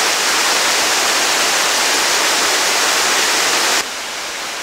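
Wind rushing through tree leaves overhead on a forest trail by a waterfall, a dense, loud, steady hiss that drops sharply near the end as the gust eases.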